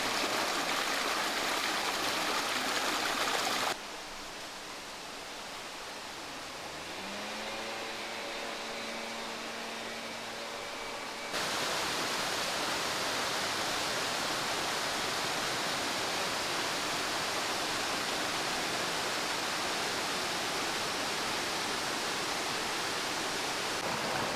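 The Ljuta River flows beside a small restaurant near Dubrovnik, Croatia, as a steady, close broadband rush of water. The rush drops away briefly midway, where faint tonal sounds come through, then returns at full strength.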